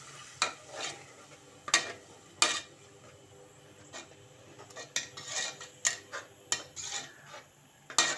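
A spoon scrapes and clinks against a pot while ginger, garlic and shallot paste is stirred for mutton biryani. The taps are irregular and moderately loud over a faint sizzle, with no talking.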